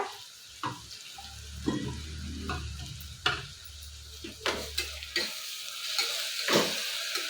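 Ginger and garlic frying in a pan for a fenugreek-sprout rice bath, with a steady close sizzle and repeated sharp scrapes and clinks of a spoon stirring against the pan.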